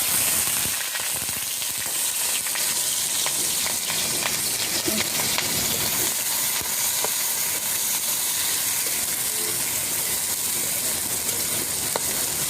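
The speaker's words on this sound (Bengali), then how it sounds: "এবার এর ভেতরে দিয়ে দেবো পেঁয়াজ আর কাঁচামরিচ।" Onion and green chili sizzle steadily in hot oil in a pan, a close, continuous frying hiss with occasional light clicks and stirring scrapes.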